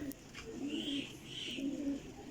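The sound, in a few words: high-quality flying pigeons cooing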